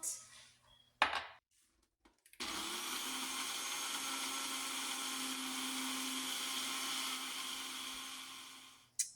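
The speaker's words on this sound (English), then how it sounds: "And you're going to blend it till smooth." A blender runs steadily for about seven seconds, whirring loud and close as it purees nuts with pepper and salt for a nutty asparagus and tomato side dish, after a few brief clatters at the start.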